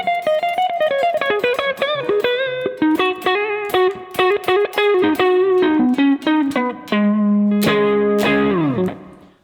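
Electric guitar played through a JHS 93 Blues Deluxe amp model with added reverb, a run of clear single notes and short phrases, slightly boxy and roomy, ending on a sustained bend.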